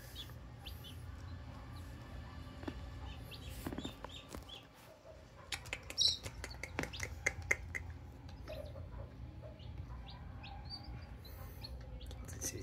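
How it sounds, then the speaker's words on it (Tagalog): Three-day-old crossbred chicks (McLean cross father, grey hatch cross mother) chirp in a makeshift cardboard brooder, bright overlapping peeps scattered steadily throughout with a few louder calls near the middle over a low background hum. "Sisiw."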